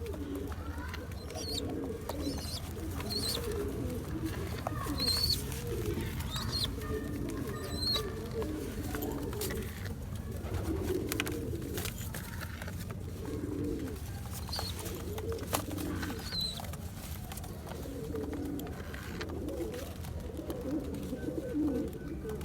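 Soft, low coos from a pigeon chick with an eye infection repeat at intervals over a steady background murmur, close by, with faint chirps and rustling mixed in.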